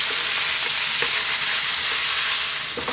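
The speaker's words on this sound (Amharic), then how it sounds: "አያችሁ አሁን ከስጋው ጋር ከነጭ ሽንኩርት ጋር ይጠበሳል።" Meat and garlic frying in a pan for an Ethiopian gomen be siga, a loud, constant close sizzle with occasional light stirring ticks and no voices.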